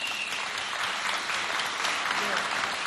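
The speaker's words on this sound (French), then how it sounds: "Applaudissez bien fort" An audience at a school celebration of Chad's national anniversary applauds loudly and continuously, a dense wash of clapping with voices mixed in.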